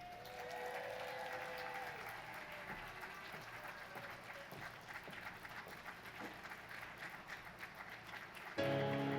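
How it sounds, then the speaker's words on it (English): An audience at a State of the City address applauds the mayor, sustained dense clapping like steady rain that holds for several seconds before music begins to swell at the end. "So let's prepare for a better future and give a round of applause for our mayor, the Honorable Chokwe Antar Lumumba."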